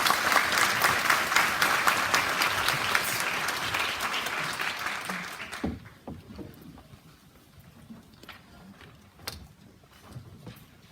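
Audience clapping at a Justice Party co-hosted event on emergency medical technician duties, dense and loud for about six seconds, then dropping off sharply to a few scattered claps in a quiet room.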